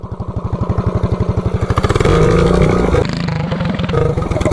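A 420cc big block minibike with a torque converter launching: the engine thumps at idle, then revs up into a loud, close roar that holds, dips briefly and picks up again.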